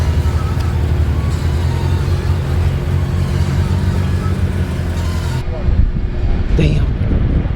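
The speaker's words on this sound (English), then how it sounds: "It's not that loud, but it sounds very Euro V8, like DTM race car" A BMW E90 M3 V8 with an Akrapovic exhaust rumbles steadily under loud wind noise while driving, a deep continuous drone that cuts off abruptly toward the end, with a voice speaking over it.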